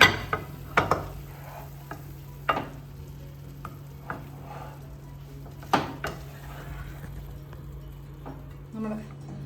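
Potato roast scraped and spooned from a pan onto a serving plate, with scattered utensil scrapes and taps against a steady low hum, a few sharper knocks standing out.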